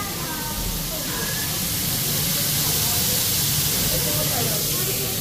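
Steady loud hiss and sizzle of food frying on an outdoor grill, a continuous spitting crackle with faint background voices.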